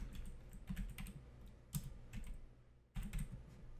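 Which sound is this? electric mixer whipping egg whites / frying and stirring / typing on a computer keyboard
typing on a computer keyboard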